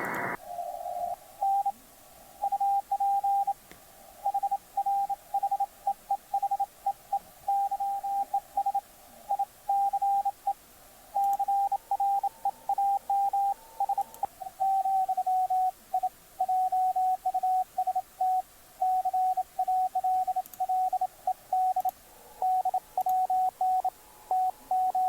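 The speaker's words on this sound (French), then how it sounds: "Donc, allons par exemple en code Morse." Morse code received on the 40 m amateur band through an SDRplay RSP1A receiver: a steady, pure tone keys on and off in rapid dots and dashes, continuous for the whole stretch over faint background hiss.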